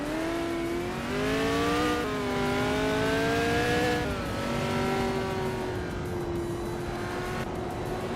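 Open-wheel race car engines from 1968 Surtees TS5 machines in a racing video game, a steady high-pitched whine rising and falling through gear changes, loud and continuous with no talk.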